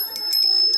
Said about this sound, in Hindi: ये घंटी है, हम इसे पास में रखते हैं